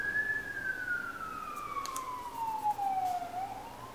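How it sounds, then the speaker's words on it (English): A single wailing ambulance siren sweeps slowly downward in pitch and then rises again, steady and moderately loud, from an ambulance passing on a nearby street. "an ambulance is about to go by"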